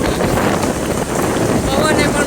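Strong wind rushes and buffets steadily throughout, a dense, close roar as lightning flickers and rain threatens on a stormy evening in Gujarat.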